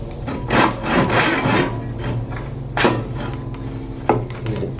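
A Gyokucho 372 Japanese pull saw rasps through unclamped wood in a few loud, close strokes. The blade is binding and may be dull, so the strokes come out uneven and dragging.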